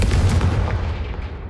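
A Confringo fire spell explodes in Hogwarts Legacy. The blast booms loud and close with a deep rumbling burst, then fades over about a second and a half, with no talk over it.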